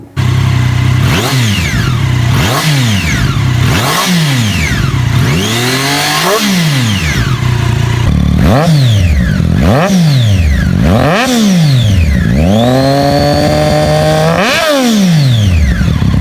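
A Triumph Daytona 675 three-cylinder motorcycle engine revs hard again and again, pitch sweeping up and dropping in repeated bursts, then holding a high steady rev before falling away.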